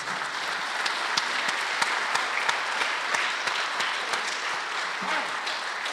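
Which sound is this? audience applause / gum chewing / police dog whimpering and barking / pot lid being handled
audience applause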